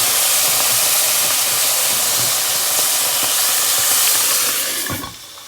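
Walleye wings frying in hot oil give a loud, continuous sizzling hiss with crackling pops, which cuts off sharply near the end.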